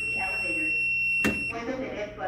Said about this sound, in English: it's telling us that we have a fire alarm manual pull station